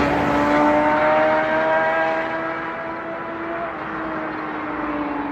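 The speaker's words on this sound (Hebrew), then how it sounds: "מדובר בקוואסקי נינג'ה ZX10R." A Kawasaki Ninja ZX10R motorcycle engine holds a loud, steady roar whose pitch slowly sinks across the stretch, suggesting it is passing or easing off after revving.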